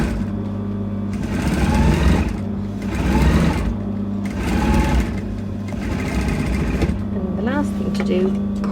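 Sewing machine stitching a seam on a cape, a close whirring motor running in bursts with brief pauses, while someone talks over it.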